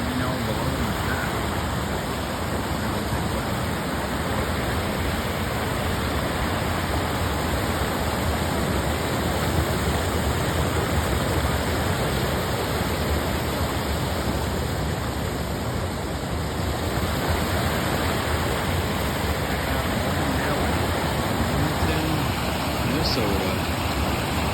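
The foamy waterfall at Normandale Lake in Bloomington, Minnesota, gives a constant broad rushing roar of falling water. The sound is steady and fairly close throughout.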